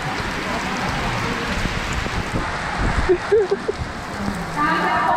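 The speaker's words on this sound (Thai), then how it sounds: "ฝนเริ่มตกหนักแล้วท่านผู้ชม" Heavy rain pours at the start of a half marathon, a dense steady hiss of drops on surfaces heard outdoors, with crowd noise and a voice talking over it in the middle.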